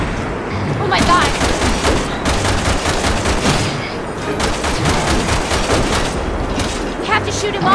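Dense, loud gunfire rattles through a boss fight in Resident Evil 6, sustained bursts of shots stacked over game noise, with voices mixed in.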